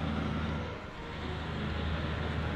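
A steady roar of passing cars and road noise, swelling and dipping slightly, with no speech.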